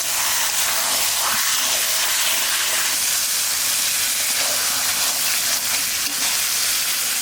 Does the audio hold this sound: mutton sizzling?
yes